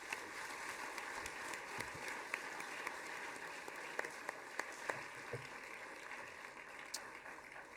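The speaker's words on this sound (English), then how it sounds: "please give the panel and all the speakers a round of applause" An audience at a leadership meeting in Kigali applauds the panel and speakers, a dense, steady patter of clapping heard from a distance and fairly faint, with a few sharper individual claps standing out.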